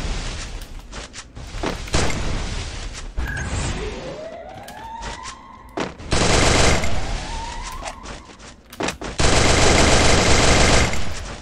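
Bursts of automatic gunfire and scattered single shots from the Garena Free Fire mobile battle royale game, with rapid loud volleys separated by short gaps and a siren-like rising tone in the middle, no talk.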